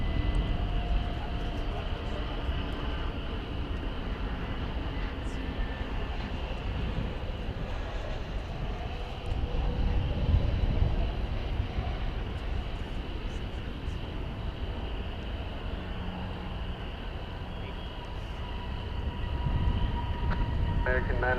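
A jet airliner rolls past Terminal D at DFW Airport toward takeoff, a steady broadband engine roar that holds at a distance for about twenty seconds with no breaks.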